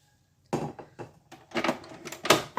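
Melted butter is stirred into Nutella muffin batter in a bowl, giving a few soft, irregular scrapes and knocks of a utensil against the bowl after a brief silence.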